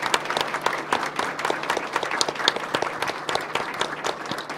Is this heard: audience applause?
yes